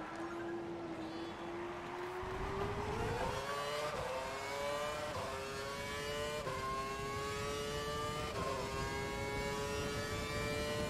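An F1 car in the video game F1 2012 accelerates toward a hairpin, its engine note climbing steadily through several gear changes with brief dips between shifts, loud and continuous with no talking.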